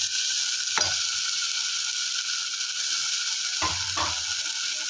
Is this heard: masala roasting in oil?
yes